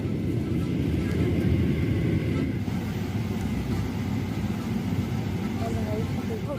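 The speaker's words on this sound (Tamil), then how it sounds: "ஃப்ளைட் டேக் ஆஃப் ஆக போகுது." Emirates Airbus A380 airliner engines at takeoff, a loud steady roar with low rumble filling the whole stretch, heard from inside the cabin with no break.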